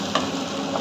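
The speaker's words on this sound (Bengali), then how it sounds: "মশলাটা ভাজা হোক" Ground spices with ginger and turmeric sizzle steadily in a hot pan while being stirred, a close, continuous frying hiss with faint scraping, prepared as filling for potato chops.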